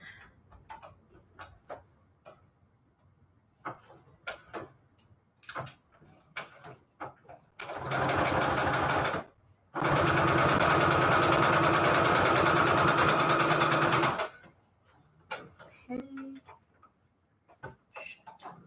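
A sewing machine stitches Christmas tags in two loud, fast-rattling bursts, about one and four seconds long, separated by a short pause. Soft clicks and handling noises come before and after, and quiet talk can be heard nearby.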